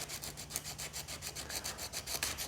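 A wooden pen blank for a Jawa pen being sanded by hand: close, rhythmic back-and-forth rasping strokes, roughly regular, with no talking.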